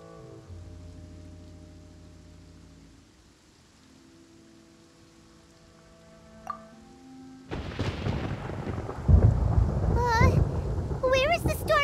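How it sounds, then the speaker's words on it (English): Thunder in the Genshin Impact video game: a sudden heavy, broad rumble rising out of quiet ambient music and holding loud to the end, with bright twinkling magical tones layered over it. "Paimon hears thunder!"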